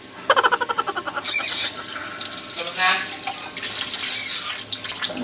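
Water runs from a kitchen tap to thin gravy, opening with a burst of rhythmic splashes and then settling into a loud, steady rushing hiss with brief pauses, alone without speech.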